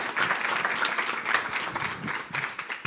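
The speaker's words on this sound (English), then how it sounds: "give them a round of applause, please." At a cultural candidate forum in King County, an audience applauds the candidates: a short burst of crowd clapping, moderately close, rising and fading over about three seconds.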